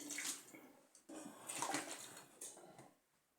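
Vegetables being rinsed under running kitchen water, a soft splashing stream that swells and breaks in uneven bursts as the produce is moved through it, fairly faint and with no talking.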